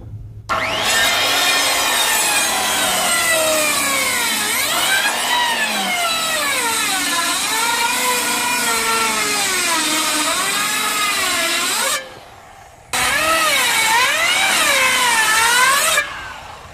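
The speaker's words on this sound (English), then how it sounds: "Just turn our saw on a 45 because again we're cutting a 12 and 12 pitch roof" A circular saw tilted to 45 degrees bites through a wooden rafter for a 12/12 pitch hip roof. The loud, whining cut runs about twelve seconds, drops out briefly, then a second cut follows.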